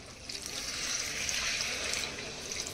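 Water pours steadily into a cooking pot while pork curry is being made, a continuous close splashing trickle with no talk.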